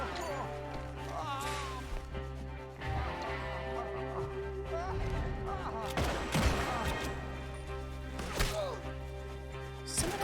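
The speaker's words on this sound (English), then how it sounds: "Someone else still shooting me." Gunfire in Red Dead Redemption 2: scattered sharp shots and bursts break out over game music and background noise, with denser volleys near the middle and the end.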